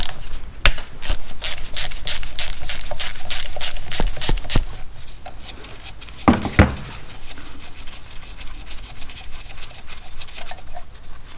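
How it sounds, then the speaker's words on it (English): A ratchet wrench loosens 8mm coolant pipe bolts on a disassembled 1984 Honda Shadow 500 motorcycle engine: a fast, loud clicking run of pawl strokes, then scattered clicks and short bursts, close-up with no talk. "Next I'm going to be removing the coolant pipes. They are a 8mm. Loosening both of them up."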